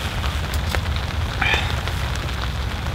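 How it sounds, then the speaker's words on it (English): Steady heavy rain patters and drums on a tarp shelter close by, a dense continuous hiss with a few sharper drips. "Well, it's still raining hard."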